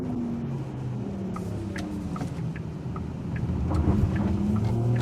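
A second-generation Porsche Macan driving on the road, a steady low engine and road rumble with tyre noise that swells slightly toward the end, with no talk.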